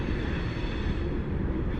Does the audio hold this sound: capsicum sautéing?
no